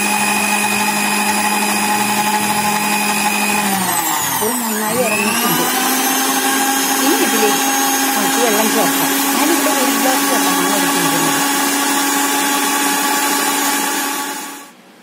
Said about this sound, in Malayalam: സിർ ഗ്രൈൻഡറിൽ ചേർത്ത് നന്നായി അടിച്ചു കൊടുക്കണം.